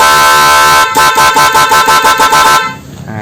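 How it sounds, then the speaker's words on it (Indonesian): Dr D Fischer The Victor snail horn fitted to a 2020 Yamaha Nmax scooter, a loud close blast: one steady honk, then a rapid series of pulsed toots, then a cutoff. "Kita akan coba tes untuk yang pertama DRD Victor"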